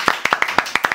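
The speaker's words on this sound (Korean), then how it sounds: "박수 먼저." A few people clap for a guest being welcomed at an online-seller business talk, about eight sharp claps in an uneven rhythm, close and sparse like a small audience.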